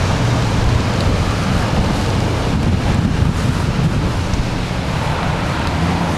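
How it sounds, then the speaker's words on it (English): Pacific Ocean surf at Depoe Bay on the Oregon coast washes in a continuous broadband roar, heavily buffeted by wind across the microphone. "the ocean, Pacific Ocean here, is running right under the road."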